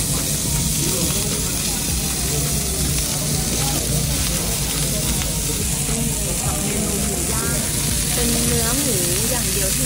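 Pork sizzles and fries on a tabletop grill at a Korean barbecue restaurant in Seoul, a loud, steady crackling hiss running throughout with a busy room around it.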